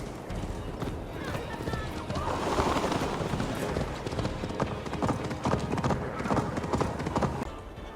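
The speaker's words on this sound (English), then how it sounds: "Your horse is slow, and her rider's drunk." Horse hooves pound in a fast, rhythmic gallop close by in Assassin's Creed Valhalla, with rumbling movement and a voice talking over the hoofbeats.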